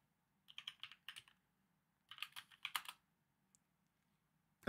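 Keys clatter on a computer keyboard as a DOS command is typed, two short bursts of close, crisp keystrokes separated by a pause in a quiet room.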